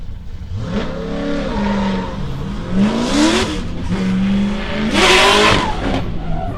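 A drift car at Meremere Drift Park, engine revving hard and rising in pitch while the rear tyres squeal through a slide, loud and close with repeated surges, no talking.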